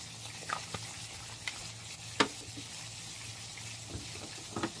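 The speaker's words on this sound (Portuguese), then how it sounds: "Agora vou mexer mais um pouquinho." A spoon stirs pretend tomato soup in a toy bowl for a Baby Alive doll, a faint scraping hiss broken by several light, irregular clicks and taps, quiet and close with no speech.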